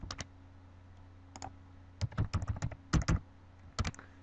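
Keys clack on a computer keyboard as passwords are entered, in sparse taps at first and then a quicker cluster of close, crisp strokes.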